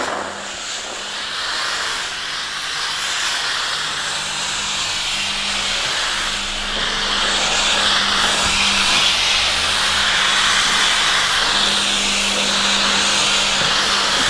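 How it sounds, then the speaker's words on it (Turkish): A Karcher SC3 Anniversary steam cleaner with an attachment fitted hisses out continuous steam, a steady loud rushing hiss with a low motor hum beneath it that grows slightly stronger partway through. "Bakın kesintisiz buhar veriyor."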